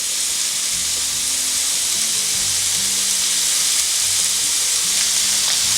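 Steak strips sizzle on an indoor grill in a loud, dense, steady fry that runs unbroken and close throughout, with no voices over it.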